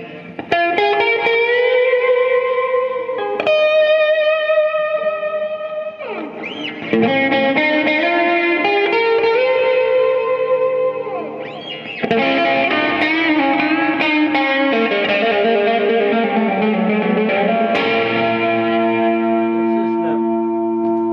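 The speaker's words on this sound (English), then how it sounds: "We've got a reverb here, so you can have reverb with delay" Electric guitar through a Marshall MG50 DFX amp using reverb with delay: loud, close ringing chords and bell-like sustained notes trailing into long echoing tails, in several separate strummed phrases.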